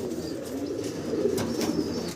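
Blue-bar pigeons in a loft keep up a steady, low, rolling coo that hums continuously with no talk over it.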